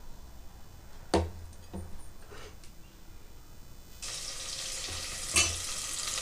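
Onions frying in oil with cinnamon and cloves, a few sharp clatters early on, then the sizzle swells and holds steady and fairly loud after ingredients are added.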